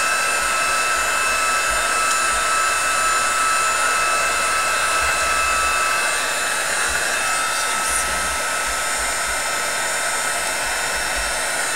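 A heat tool blows continuously at close range while heat setting paper snowflake flowers, giving a loud, even rushing hiss from start to finish with no talking.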